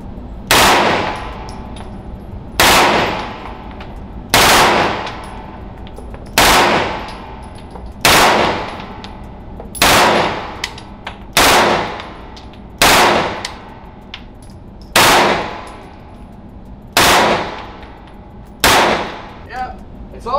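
A handgun fired at a shooting range: about a dozen sharp, loud, ringing gunshots at a steady pace of roughly one every two seconds, each decaying quickly, with quiet gaps between.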